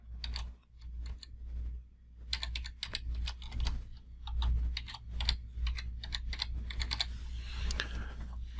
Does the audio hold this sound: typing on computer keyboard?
yes